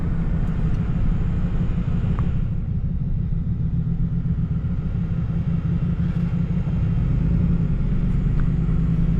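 A Lexus LS400 fitted with air suspension drives along a road, a steady low rumble of engine and tyres filling the cabin throughout with no voices.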